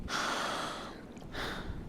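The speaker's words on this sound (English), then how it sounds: "makes these horribly annoying breathing, grunting sounds every single time that he opens his mouth" A man makes loud, breathy gasping and snorting sounds close up, one long raspy exhale followed by a shorter second burst, with no words.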